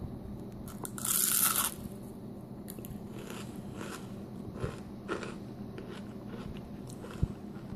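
A crunchy beer-batter onion ring is bitten once up close, giving a short, loud, crisp crunch that stands out against a quiet room background.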